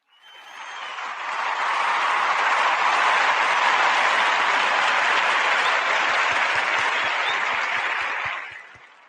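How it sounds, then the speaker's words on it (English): A long, dense round of applause swells in, holds steady and loud for several seconds, then fades out as a few final individual claps trail off at the end. "Let me give all of you a clap right now, too."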